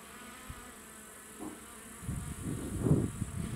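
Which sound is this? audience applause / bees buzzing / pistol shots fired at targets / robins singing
bees buzzing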